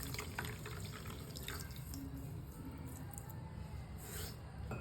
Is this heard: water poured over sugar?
yes